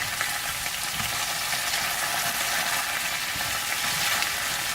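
Food sprinkled with soul seasoning frying in a pan, a steady close hiss of sizzling oil running evenly throughout, with only faint hints of stirring and no voices.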